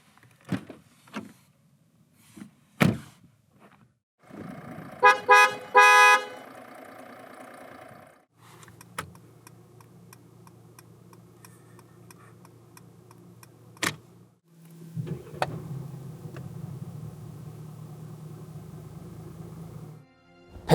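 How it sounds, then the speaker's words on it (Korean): Mercedes-Benz CLS 400d 4MATIC sounds off in a series of short mechanical clicks and ticks, then a busy burst of chimes and tones, followed by a steady low diesel idle hum that swells near the end, with no talk. "CLS가 들려주는 감성적인 소리를 들어볼까요?"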